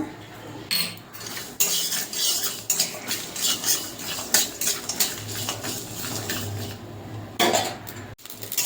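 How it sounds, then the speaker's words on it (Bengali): Whole cumin, cashews and poppy seeds roasting as a spice mix in a pan for a chicken dish, with a utensil repeatedly scraping and clinking against the metal over a low steady background, near and clear, no talking. "মশলাটা যে ভাজা হয়ে গেছে নামিয়ে নেব।"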